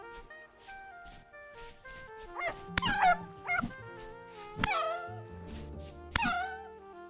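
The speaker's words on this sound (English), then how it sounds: "Oh, I hear a wolf pup." A wolf pup from the game Vintage Story gives several faint, high whimpering yips and squeals in short separate bursts over a soft background of game music.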